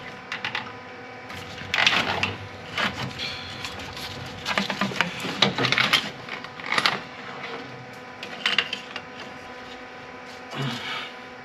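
Radiator being worked loose and pulled from a 2012 Jeep Wrangler, with scattered clanks, rattles and scraping of metal and plastic parts close by, coming in irregular bursts with brief pauses and no talking.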